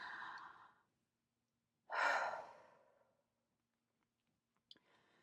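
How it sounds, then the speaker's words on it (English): A group draws a deep, audible breath in unison and lets it out in a long, soft sigh, close and clear, followed by near silence and a faint click. "Let's all take a deep breath."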